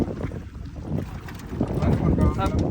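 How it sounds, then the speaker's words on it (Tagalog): A fishing boat's engine starts up outdoors on the water, a rough low rumble that builds and grows louder in the second half, mixed with wind buffeting the microphone and faint voices. "Start the engine."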